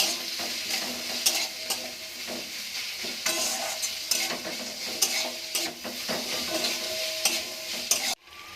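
Capsicum, tomato and green chili sautéed together with leftover cooked rice, a continuous close sizzle broken by repeated scraping and stirring strokes of a spatula against the pan, ending in a brief clatter.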